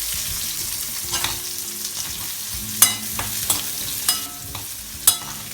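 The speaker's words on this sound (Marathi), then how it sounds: "त्याच्यात मी हा 1 कांदा घेतलेला आहे, तो फ्राय करून घेते चांगला।" An onion fries in a pan with roasted garlic for an Amti made with sandge, giving a steady close sizzle. Several sharp scrapes and clinks of stirring break through the sizzle.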